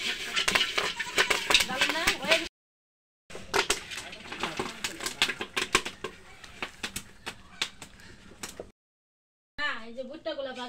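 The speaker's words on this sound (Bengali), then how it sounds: "এই যে ভুট্টাগুলা ভাজি করছি" Maize kernels dry-roasting in a pan in Manikganj, Bangladesh, giving a busy run of close, dry ticks, pops and scraping clatter, broken by two short silences, with a voice talking over it near the end.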